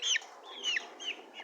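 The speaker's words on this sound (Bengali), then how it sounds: "আজকে মুরগি তাদেরকে ছাড়ি নাই, তাদেরকে খাঁচা আটকে রাখছি" Desi chickens kept caged on a rainy day cluck in a few short, rising calls, fairly close but soft, with no talking.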